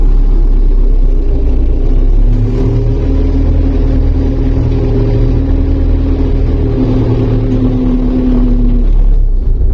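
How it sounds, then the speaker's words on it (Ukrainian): A tractor engine runs steadily while cultivating a field, a loud continuous low rumble with a faint rising and falling drone throughout. "дав покататися на тракторі."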